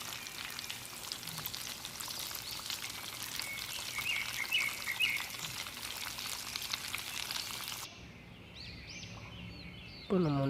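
Suviyam frying in hot oil: steady, dense sizzling and crackling holds for several seconds, then drops to a quieter bubbling near the end.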